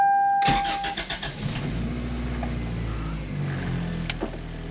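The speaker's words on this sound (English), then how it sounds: "the Geo started no problem after having the Starlink plugged in all night" A Geo car engine cranks briefly with a few starter pulses, then catches and settles into a steady, close idle that runs on alone, after the car battery read 12.1 volts following a night of powering a Starlink Mini.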